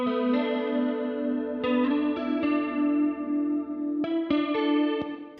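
An ambient electric guitar drenched in chorus and reverb plays sustained, shimmering chords, with a few fresh strums cutting in over the lingering wash, loud and close, no voices.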